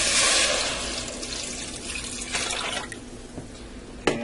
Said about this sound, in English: I'm also going to add in 4 cups of water